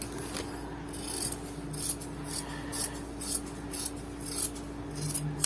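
Scissors cut through blouse fabric in a series of short rasping snips, close and fairly quiet, repeating in an uneven rhythm with no talking.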